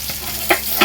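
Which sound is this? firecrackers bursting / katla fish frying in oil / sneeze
katla fish frying in oil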